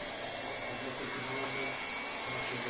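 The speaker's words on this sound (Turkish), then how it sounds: "Böyle yaptıktan sonra kaynak işlemine başlayacağız." Plastic welding machine working on a washing machine drum gives a continuous loud hiss with a steady blowing roar, unbroken throughout and close up, with no voices.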